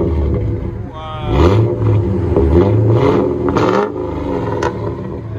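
A lifted 10th-generation Ford F-Series pickup's 5.4L Triton V8 custom exhaust revs up several times close by, deep rumbling rising and falling between throttle blips.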